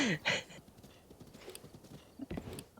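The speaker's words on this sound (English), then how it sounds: "He's doing the horse stamina glitch" Hooves clip-clop quickly on the ground as a horse gallops in a video game speedrun, a faint, rapid rhythm with a brief whinny-like burst at the start.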